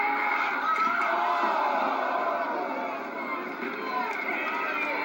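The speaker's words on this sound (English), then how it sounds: "And you heard the crowd react." An arena crowd at a wrestling TLC match roars and cheers after a chair shot, a dense, sustained wall of voices heard from within the audience.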